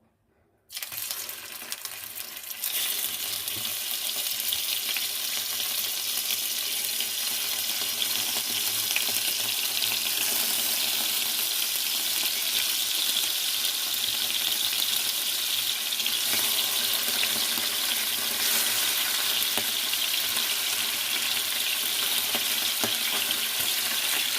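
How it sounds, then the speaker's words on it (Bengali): Fish frying in a pan, the loud, dense sizzle starting abruptly after a moment of silence and then holding steady and close for the rest of the clip, with no voices. "আমি জাস্ট এখন খালি মাছটা ভেজে নিব"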